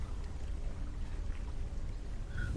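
A boatman's boat is steered toward a jungle landing, with soft continuous water sloshing and lapping at moderate distance and no voices.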